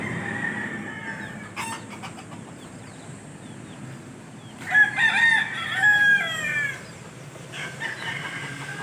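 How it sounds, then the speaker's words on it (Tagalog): A captive red junglefowl (labuyo) rooster, caught as a chick, gives one drawn-out crow midway, fairly close, over a low outdoor background hum with a few faint clucks around it. "Manok na labuyo nga nahuli namin"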